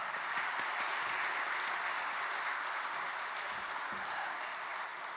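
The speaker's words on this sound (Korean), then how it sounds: "우리 박수로 목사님 맞이하겠습니다" Faint, distant applause from a church congregation during a Sunday worship service, welcoming a pastor: an even, steady patter of many hands with no voices.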